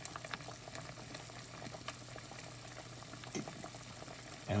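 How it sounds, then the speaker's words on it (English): A pot of vegetable soup comes up to a boil, giving a faint, steady bubbling and burbling throughout with a soft low hum underneath. "now we have it up to a boil"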